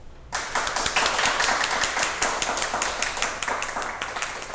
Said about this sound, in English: Give a round of applause for Chairman Omali Yeshitela.